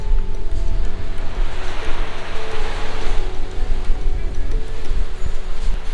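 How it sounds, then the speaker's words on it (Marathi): Sea surf washes steadily onto the beach shore at Edvan Beach, a continuous loud roar of breaking waves with wind across the open coast and no talk. "या बाजूला मस्त असं समुद्र किनारपट्टी एकदम सुंदर अशी मोठी."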